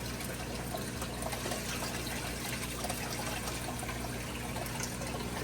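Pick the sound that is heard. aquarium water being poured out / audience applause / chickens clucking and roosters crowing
aquarium water being poured out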